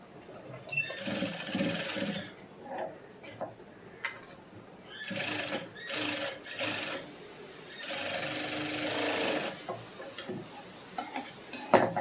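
A sewing machine stitches a blouse lining in bursts, its fast rattling runs starting and stopping with short pauses between, close and fairly loud.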